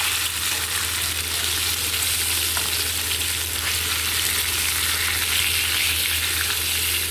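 Tilapia fish pieces fry in hot oil in a pan, giving a steady, loud, unbroken sizzle and crackle throughout with no speech.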